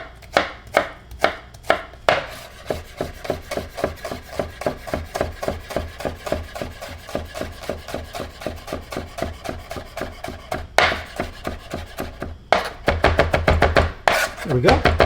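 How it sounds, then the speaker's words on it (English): Knife mincing spring onions on a cutting board: rapid, steady chopping taps near and loud, in quick bursts with brief pauses, picking up to a faster flurry near the end, with no talk. "So we're going to take our spring onions, we're going to go ahead and do a mince on those."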